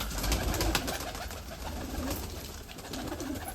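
Pigeons coo softly in a low, repeated murmur over steady background noise, with faint rustling and a few soft thumps.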